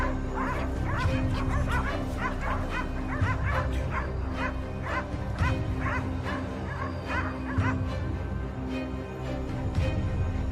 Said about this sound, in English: The hounds were released, sprinting swiftly as their barking echoed across the air.